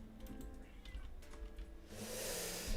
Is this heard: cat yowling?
yes